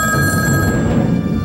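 A telephone rings in a film, a loud, continuous electronic bell trill that fills the whole moment with no pause.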